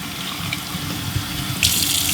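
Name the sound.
tap water at max setting rinsing a cold air intake filter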